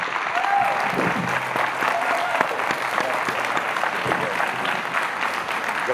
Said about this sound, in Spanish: me gustaría, por favor, todos un fuerte aplauso para Álvaro Enrique